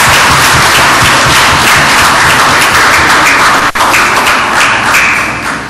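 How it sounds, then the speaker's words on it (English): A loud, close audience applauds the presenters at a public consultation meeting on the Skinner Park redevelopment, with dense sustained clapping and a few thumps, tapering off slightly at the end. "Join me in, please, applauding their efforts again in their presentations."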